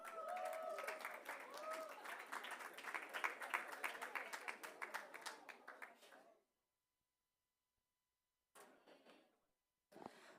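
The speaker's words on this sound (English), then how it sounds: "So please, your round of applause." Audience applause fills a session at a youth pavilion, with dense clapping that fades out around six seconds. A short silence follows, then brief scattered bumps.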